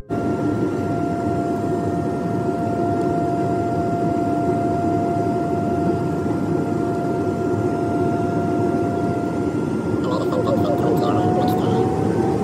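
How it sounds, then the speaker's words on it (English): Steady broadband roar of airplane engines outside an airport, a constant loud wash with a faint tonal whine, brightening near the end as a higher jet whine rises. "All right, so this is the airport outside."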